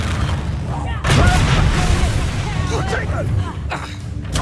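A Confringo blasting spell in Hogwarts Legacy bursts with a sudden booming blast about a second in, followed by a crackling, fiery rumble and a second, lighter burst near the end, under a voice speaking.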